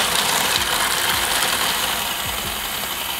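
Food processor grinding nuts toward a dough-like consistency, a loud steady whirring churn with rattling, ratchet-like mechanical grinding throughout, no voices.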